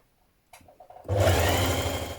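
A sewing machine hems a dress vent with a single fold over an overlocked edge. A few faint clicks come first, then a loud, steady motor whir runs on without pause.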